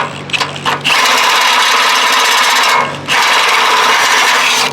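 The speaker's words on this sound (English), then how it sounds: "it's kind of a pain to drill them." A loud power drill with a step bit whines steadily as it bites through metal on a 1958 car floor and frame, with a brief pause midway before drilling resumes, close and harsh.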